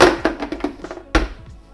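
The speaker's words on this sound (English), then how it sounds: "Next, plonk your aroma lid on." A Thermomix TM6 aroma lid is set onto the bowl: a few light, close taps and rattles, then one sharper clunk as it seats.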